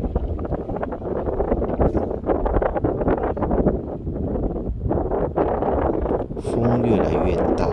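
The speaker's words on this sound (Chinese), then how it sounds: "渐渐也起风了。" Strong wind picks up along a high seawall during a jigging fishing session, a loud, steady rumble buffeting the microphone for the whole stretch with only slight gusty swells.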